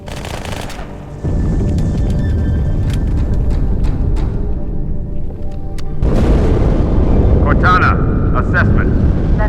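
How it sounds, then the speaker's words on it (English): Explosion in the video game Halo 2 during a cutscene aboard the Athens: a loud booming burst of rumbling noise that swells and sustains, with speech over the mix throughout. "That explosion came from inside the Athens, same as the Malta."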